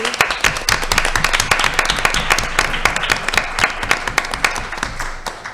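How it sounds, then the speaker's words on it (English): At a school board meeting, an audience gives a retiring staff member a round of applause: sparse, distinct claps from a modest group of people, steady throughout and fairly close. "A round of applause for Patty."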